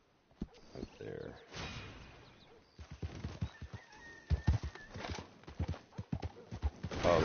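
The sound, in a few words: horse neighing and hooves clip-clopping, from a video game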